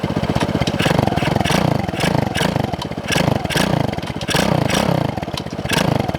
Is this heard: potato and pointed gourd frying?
no